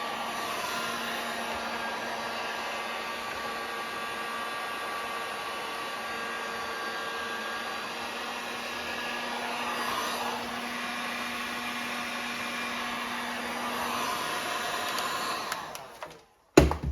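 A heat gun blows steadily on a bolt of an X-press bow press, softening the plastic inside; the even, close airflow hiss runs unbroken for about sixteen seconds, then cuts off abruptly.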